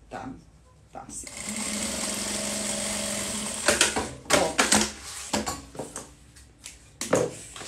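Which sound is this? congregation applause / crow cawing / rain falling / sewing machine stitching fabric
sewing machine stitching fabric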